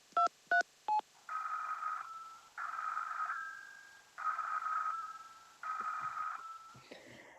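A rotary telephone being dialed in an old-time radio play: three short clicks, then four sustained buzzing dial-return tones in an even rhythm, close and clear, with no voices.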